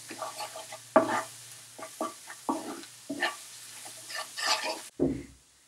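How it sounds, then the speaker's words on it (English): Plain flour being stirred into a macaroni cheese mixture for cheese balls, heard as a run of soft scraping and mixing strokes in short bursts, fairly close, with no talking. "Now I am adding plain flour into it and mix them very nicely."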